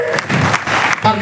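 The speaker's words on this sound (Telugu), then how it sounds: "ఒక్కసారి అందరి గురువులకు కూడా మనం కొట్టారా క్లాప్స్?" An audience claps for teachers at a musical event at TGV Kalakshetram in Kurnool, a short burst of dense crowd applause, close and loud, with a voice briefly heard over it.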